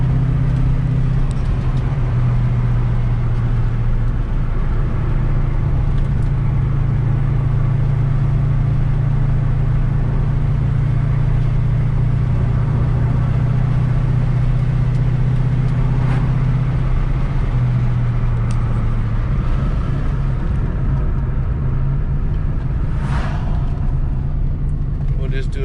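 A 1993 Ford Mustang Cobra drives with a steady low engine rumble and road noise throughout, someone talking over it as the car gently accelerates.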